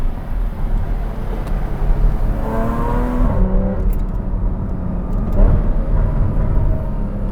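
A Porsche 981 Cayman S fitted with F1 headers, heard from inside while driving, its engine revving up and falling back with a rise in pitch and exhaust burbles on the lift, loud and close.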